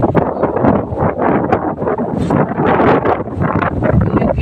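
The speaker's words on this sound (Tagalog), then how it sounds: "Sobrang lakas ng hangin. Sumasayaw ng mga puno." Strong monsoon wind at a beachside resort blows in sustained loud gusts, buffeting the microphone, with a rushing, rustling texture of trees thrashing nearby.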